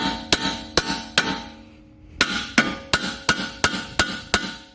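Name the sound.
hammer beating on car suspension part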